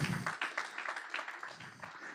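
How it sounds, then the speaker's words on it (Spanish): A church congregation applauding for the Lord, a faint burst of scattered clapping heard at a distance throughout. "¿Le das un aplauso al Señor por ello?"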